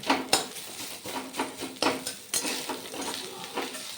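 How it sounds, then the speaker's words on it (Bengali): Moong dal being poured into a pan of fried grated coconut, with bursts of sizzling and clattering spoon-on-pan stirring in an uneven rhythm, close and fairly quiet. "এবারে ডাল ঢেলে দেব।"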